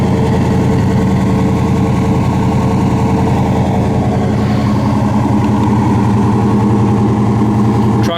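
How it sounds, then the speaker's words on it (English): An original 1972 Chevelle SS idles close by, its exhaust giving a loud, steady, deep burble with an even lumpy pulse throughout, with no voices over it. "that exhaust sounds good"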